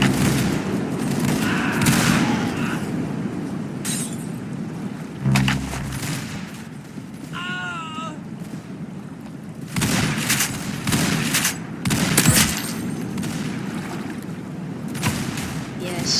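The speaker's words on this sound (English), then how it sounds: "This is sawn-off shotgun." Sawn-off shotgun in a video game fires in scattered loud booming blasts across the stretch, with a player talking between the shots.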